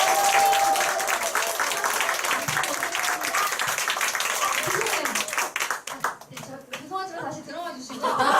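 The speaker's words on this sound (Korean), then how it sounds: "네, 큰 박수 부탁드리겠습니다." An audience at an award ceremony during a group meeting gives a round of dense applause, which thins out and fades as a voice speaks into a microphone.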